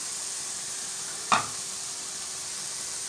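Carrot, tomato, onion and grated coconut in a pan, a soft continuous sizzle with a single sharp spatula knock midway; no voices.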